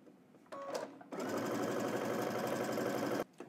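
Sewing machine running in a short burst, then a steady, close, continuous stitching run of about two seconds while a garment seam is sewn, stopping abruptly.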